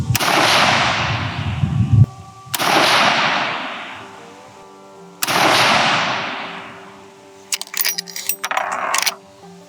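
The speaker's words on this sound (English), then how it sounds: "just shot that 3-shot group" Three loud rifle shots from a Henry .360 Buckhammer firing 180-grain loads, spaced a few seconds apart, each a sharp crack followed by a long rolling echo, with a brief clatter near the end.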